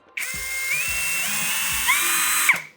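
A Procraft PA18Pro cordless screwdriver motor whirs up sharply, holds a high whine that shifts pitch as the trigger is varied, then cuts off, close and loud with no talk.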